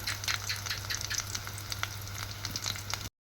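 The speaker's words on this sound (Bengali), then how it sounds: "এখানে দিয়ে দিছি হলো সরিষার তেল, খাঁটি সরিষার তেল, আর পেঁয়াজটা ভেজে নেব ভালো করে।" Onions frying in pure mustard oil, a close crackling sizzle with dense spitting pops and occasional stirring, over a low steady hum and without voices, cutting off abruptly at the end.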